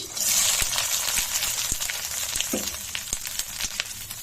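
Onion, green chili and garlic fry with roasted peanuts in a pan, giving a loud, continuous sizzle up close with sharp clicks and scrapes from stirring.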